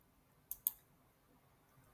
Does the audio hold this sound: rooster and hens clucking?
no